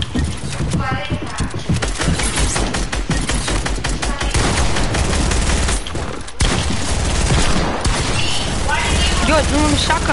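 Shotgun and other gunfire in a multiplayer video game, dense repeated loud shots over a constant bed of players' chatter.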